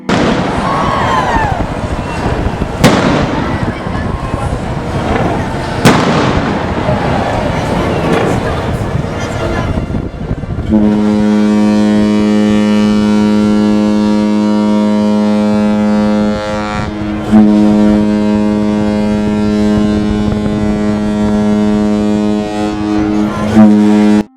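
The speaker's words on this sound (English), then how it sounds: "You'll hear the fireworks have started." A few sharp fireworks bangs crack out amid a noisy outdoor crowd at a P&O 175th anniversary event, then the deep horn of cruise ship Azura, leaving her berth, blares loudly and holds.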